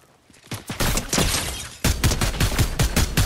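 Rapid bursts of gunfire in the video game Fortnite, loud and dense, with a short pause and then another sustained string of shots.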